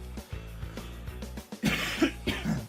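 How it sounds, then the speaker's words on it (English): A person coughs several times, with short rough bursts and throat clearing, close up and moderately loud with no speech. "Sorry for the cough there"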